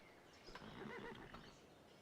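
A single short horse neigh from the Civilization 5 strategy game, sounding alone over a low steady background of game ambience.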